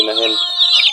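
A Plymouth Rock chicken, kept apart in its own pen, gives one loud, close, drawn-out cluck that trails off within a second, with no talking.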